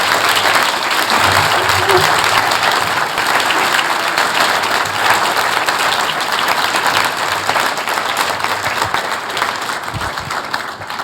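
An audience at an MLK event gives sustained, loud applause, dense clapping that continues steadily throughout with faint crowd noise underneath.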